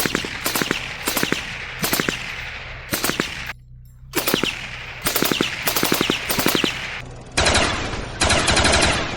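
An FN MAG general-purpose machine gun fires with a suppressor in repeated bursts, each burst a rapid rattle of shots. The bursts are loud and close, with brief gaps between them and a longer final string.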